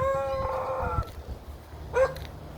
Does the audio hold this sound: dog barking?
yes